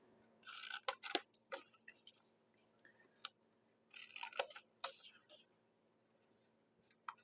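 Scissors snip and trim a small paper coffee cup treat holder, cutting little V shapes, in close, crisp bursts of quick cuts separated by short pauses.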